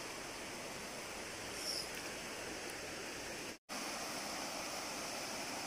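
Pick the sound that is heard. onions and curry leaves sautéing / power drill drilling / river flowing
river flowing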